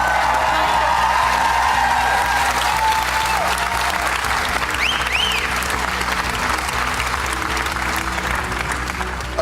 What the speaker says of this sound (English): Everyone will give you a really big round of applause.